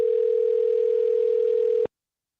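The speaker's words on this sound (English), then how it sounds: "Uh-oh, it's already ringing." An outgoing phone call rings on the line: one steady, fairly loud tone holds for just under two seconds and then cuts off abruptly, followed by silence.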